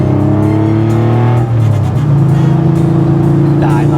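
A Porsche RWB widebody car's engine revs while driving, a loud, close droning tone that holds steady and then climbs in pitch, with a shift partway through.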